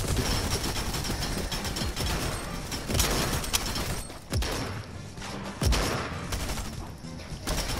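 Gunfire in a Fortnite match, dense crackling shots with sharp impact bursts and a few thumping hits throughout over a busy, noisy game background, no talking.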